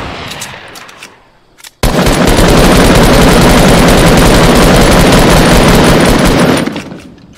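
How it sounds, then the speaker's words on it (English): Sustained assault rifle gunfire in the video game Fortnite, a loud continuous burst lasting several seconds after a brief quieter stretch, with no talking over it. "Shoot it, bro, with your AR."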